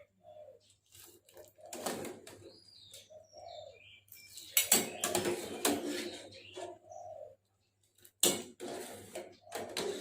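Boiled pumpkin scooped from a pot of water for a Thai pumpkin-in-coconut-milk dessert, with scattered metal clinks and scrapes of a utensil against the pot, a few short bursts near and clear, with quiet gaps between.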